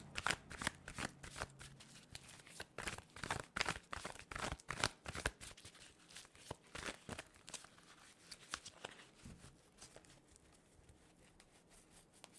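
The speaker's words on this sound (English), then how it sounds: "I'm just going to shuffle this deck several times." A deck of tarot cards is shuffled repeatedly during a live personal reading, with rapid papery riffles and snaps in bursts, close and fairly quiet, then softer shuffling toward the end.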